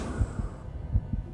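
A slow heartbeat thumps in paired, muffled low beats, heard close and steady against a faint background hum, with no voices.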